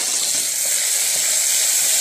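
Tomatoes dropped into a frying pan of cooking vegetables hiss with a steady, fairly loud sizzle throughout, with faint stirring and no talk.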